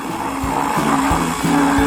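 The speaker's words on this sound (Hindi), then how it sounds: "यह सब भी एक ब्लेंडर में अच्छी तरह से क्रश्ड होना चाहिए" A kitchen blender crushes strawberries for a layered cocktail, its motor whirring loudly and steadily with rhythmic surging pulses as the blades churn the fruit.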